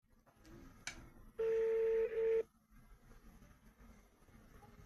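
Telephone keypad tones beep twice in a row, a loud sustained tone and then a shorter one, set between quieter room noise and a sharp click.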